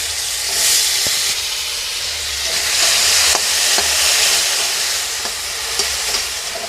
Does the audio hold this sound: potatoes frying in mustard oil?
yes